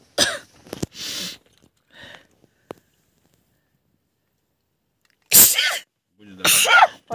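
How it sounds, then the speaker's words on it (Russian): A woman sneezes sharply twice near the end, close and loud, after some quiet breathing and small rustles during a break for food on a trip. "сейчас чихну"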